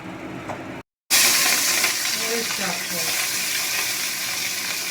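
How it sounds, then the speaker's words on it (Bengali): Fish sizzles steadily in hot oil in a pan, a loud continuous crackle and hiss that starts abruptly after a brief silence and keeps going with small pops. "মাছগুলো একটু হালকা করে ভেজে নেব।"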